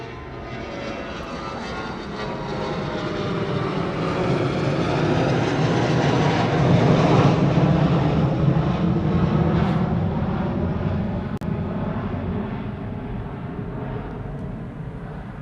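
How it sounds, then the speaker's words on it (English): A C-17 military transport jet at Honolulu airport roars past, its engine noise swelling to a loud peak midway and then slowly fading, a broad continuous whine heard alone. "I think I see the C-17 out there."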